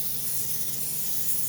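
Cooking spray hisses onto a baking pan for a sweet potato casserole, one continuous, close, steady aerosol jet with no pauses and no talk.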